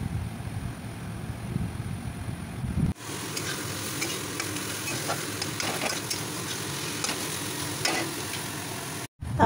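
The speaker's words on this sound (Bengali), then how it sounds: "এই দেখো, তেতো শাকটা রান্না করে নিচ্ছি শিমের বিচি দিয়ে।" Bitter greens cook with bean seeds in a pan, giving a steady close sizzle with occasional stirring scrapes; a noisier background hum gives way to cleaner frying partway through.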